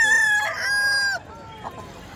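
A desi rooster for sale at a Sankranti festival market crows loudly and close by in one long, strained call lasting about a second, followed by quieter background noise.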